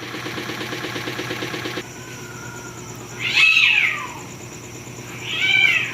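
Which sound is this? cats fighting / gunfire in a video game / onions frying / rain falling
cats fighting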